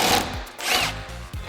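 A power tool whirs in short bursts to undo an anti-roll bar bolt under a cheap project car, the motor revving up, easing off and starting again close by.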